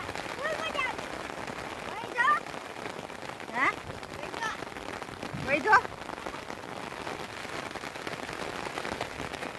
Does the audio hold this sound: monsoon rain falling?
yes